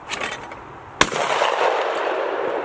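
A single sharp shotgun blast during a skeet shooting session, loud and close, its rolling echo decaying across an open range after a brief stretch of outdoor background.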